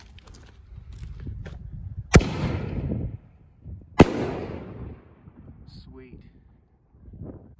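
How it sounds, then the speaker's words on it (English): A Red Wave Chrysanthemum canister firework shell goes off with two sharp, fairly distant bangs about two seconds apart, each trailing into a rumbling crackle, amid outdoor background noise and faint murmuring voices. "All right, to top everything off, here goes a canister shell"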